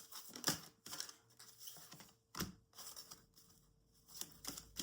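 Oracle cards being shuffled by hand in a quiet room, giving soft, papery riffles and crinkly slides in short irregular bursts with pauses between them, close and faint.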